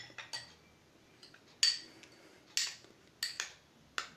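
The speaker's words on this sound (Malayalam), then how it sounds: "നന്നായി മിക്സ് ചെയ്യാം." A spoon clinks against a bowl while a mixture with water is stirred, a few distinct metallic taps spaced irregularly over a faint, quiet background.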